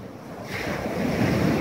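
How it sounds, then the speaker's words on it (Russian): Sea surf at the shore of Arkhipo-Osipovka at sunset, a broad steady wash of breaking waves swelling louder with wind noise on the microphone, no talk. "Море тут классное."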